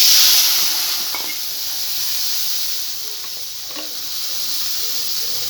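Water poured into hot oil with panch phoron, bay leaves, turmeric and chili for a vegetarian dhoka curry gives a loud, steady hissing sizzle close by that slowly eases, with no talk.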